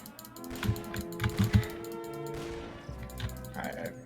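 Tree chopping in Roblox: a quick run of sharp, close clicking hits that sound like an axe striking wood, over a steady game background.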